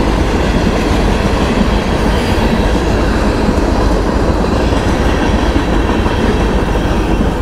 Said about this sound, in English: Bye-bye, Mr. Train.